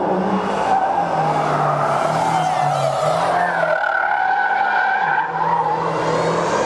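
A race car slides through a corner on a track under acceleration, its engine droning steadily loud throughout with a rising higher-pitched tire squeal in the middle and a brief dip near the end, with no talking.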